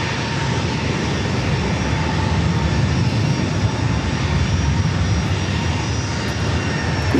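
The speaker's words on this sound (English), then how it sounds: "a 737-800, lined up, ready to go, runway 27" Boeing 737-800 jet taking off from runway 27 at San Diego airport, a steady broadband engine roar that stays loud and sustained throughout, with no voices over it.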